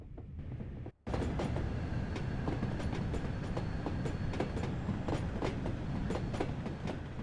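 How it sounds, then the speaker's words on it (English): A train running in Train Sim World, hauled by an LMS Jubilee class steam locomotive, rolls along with steady rhythmic clickety-clack of wheels on rail joints, continuous and fairly loud after a brief dropout near the start. "This train is powered by an LMS Jubilee class steam locomotive."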